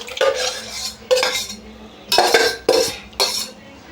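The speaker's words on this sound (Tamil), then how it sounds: "காளானை சேர்த்துட்டு லைட்டாக ஒரு கிளறு." Fried mushrooms being stirred into a butter masala gravy in a pan, with five bursts of a spoon scraping and clinking against the metal, each about half a second, close and fairly loud with no talking.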